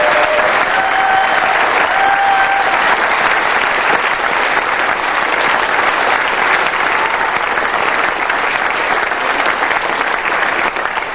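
A crowd at the 1999 World Professional Pool Championship gives loud, sustained applause in thanks to the World Pool Association, a thick continuous clatter of clapping lasting over ten seconds.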